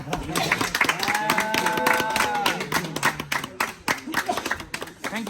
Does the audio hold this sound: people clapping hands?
yes